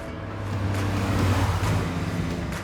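A Porsche 911 of the 992 generation drives along with a steady, low engine drone and road rumble that swell slightly and then hold. No one talks over it.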